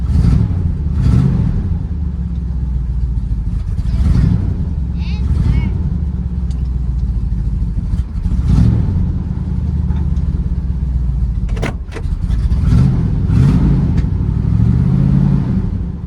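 A 1978 Chevy C30 dually truck, a barn find parked for 29 years, warms up with a steady low engine rumble and a few revs swelling and falling, while people talk over it.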